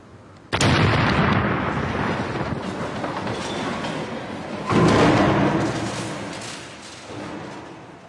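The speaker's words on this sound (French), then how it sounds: "L'explosion a séparé ses composants principaux." Anti-tank mine detonated under an old car in a wartime demonstration: a sudden loud blast followed by a long rumbling roar and clattering debris, with a second heavy surge partway through that slowly dies down.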